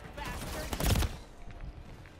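Automatic gunfire in Modern Warfare 3, a short dense burst that peaks and fades within about two seconds, loud and close against background game noise.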